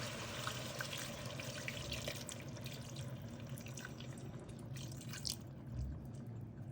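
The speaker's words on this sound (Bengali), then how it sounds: "দুধটা আমি দিয়ে দেবো এখানের মধ্যে" Milk pours into a cooking pot with a soft, continuous liquid splash and trickle, faint and close, with no voices.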